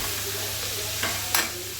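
Chopped carrots sauté in a pan for raw papaya pulao, with a soft steady sizzle and a couple of brief scraping stirs close by.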